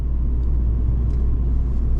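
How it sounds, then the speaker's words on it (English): A 2012 Fiat 500 Sport four-cylinder engine with automatic transmission hums as the car drives, a steady low rumble from inside the cabin with no talking. "It sounds really unique for a 4-cylinder."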